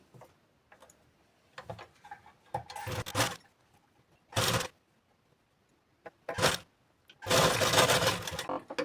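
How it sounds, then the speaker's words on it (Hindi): A domestic sewing machine stitches blouse fabric to its lining in several short bursts of rapid whirring, separated by quiet pauses with small clicks and handling sounds, close to the microphone. "फिर यहाँ पर हमें सिलाई लगानी है"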